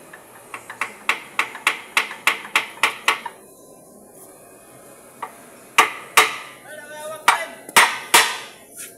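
Sharp metal hammer strikes while dismantling a 5 hp air compressor, a fast regular run of about a dozen blows, a pause, then several louder, slower hits, close by with light background noise.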